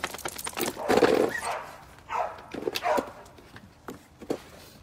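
Dog fighting its leash, making scuffling, yelping and growling bursts in irregular clusters, heard close up with quiet gaps between the outbursts.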